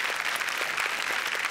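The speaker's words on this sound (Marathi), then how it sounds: "अभिनय सावंत यांच्यासाठी जोरदार टाळ्या." A studio audience at a Marathi comedy show claps loudly and steadily, a dense wash of applause that lasts the whole moment without talk.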